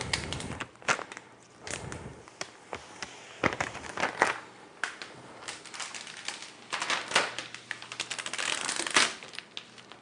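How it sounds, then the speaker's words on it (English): Plastic film is peeled off a new Apple iMac, giving close, crackling and crinkling bursts that come in irregular rustles throughout, with no talking. "This is the new Apple iMac. Covered in plastic. So we'll take that off as well."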